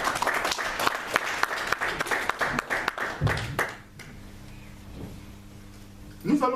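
A church congregation claps together in praise of Jesus for about three seconds, lively and fairly loud, before the clapping stops and a quieter stretch of low hum and a brief voice follow.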